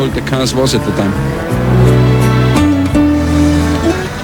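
Engine of a 1992 Formula 1 race car, a loud sustained high-revving roar with shifting pitch and brief gear-change dips, close and continuous throughout.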